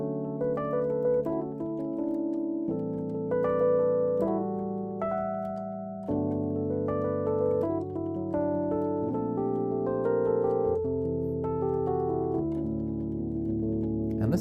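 A Nord electric piano plays a song in a jazz style, with sustained chords shifting every couple of seconds under a melodic line, even and unaccompanied.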